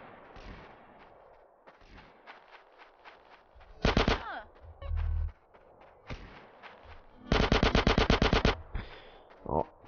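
Shotgun and other weapon fire in GTA San Andreas: scattered muffled shots and footsteps, then two loud rapid bursts of repeated blasts, one near the middle and a longer one later, with game ambience throughout.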